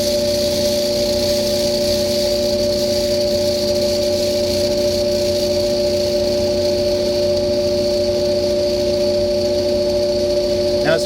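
A Frigidaire clothes dryer with a loud running fault, its drum and blower giving a constant, close droning hum with a steady whine and no change in level throughout.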